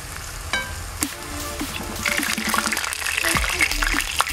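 Whiting fish fries in hot oil, hissing steadily with frequent sharp pops and spatters, louder in the second half, while a person talks over the cooking.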